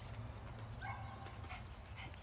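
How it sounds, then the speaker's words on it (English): A dog yips and whimpers faintly amid a low background hum, with short bursts scattered through the clip. "Now the dog's barking."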